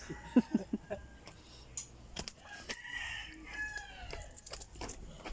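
Chicken clucks and squawks nearby, a few sharp bursts at first, then scattered flapping and rustling sounds.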